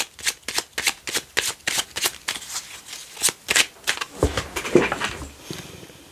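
Tarot cards shuffled by hand in a quick run of crisp riffling flicks, a steady rhythm of close, dry slaps that loosens into softer handling and drawing of cards toward the end, with no voices.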